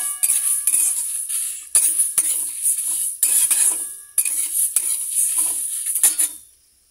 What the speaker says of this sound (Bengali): সর্ষে, পাঁচ ফোড়ন আর শুকনো লঙ্কা এটা কড়াইতে একটু ভাজা ভাজা করে নিচ্ছি